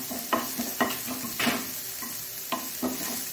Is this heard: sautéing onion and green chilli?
yes